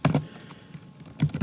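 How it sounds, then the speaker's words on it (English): Uppercase text typed on a computer keyboard: bursts of clicking keystrokes at the start and again near the end, with a quieter stretch between, close and fairly loud, no talking. "let's get the whole message typed, one character at a time, from the keyboard through the computer and back to the monitor"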